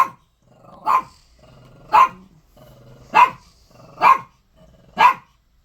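A dog barks five times at roughly one-second intervals, each sharp, loud bark close by, with low growling between the barks.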